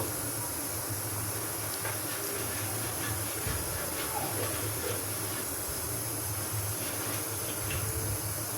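Thick full-cream milk heats in a pot toward a boil, giving a steady broadband hiss and simmer with faint bubbling ticks throughout, close and continuous.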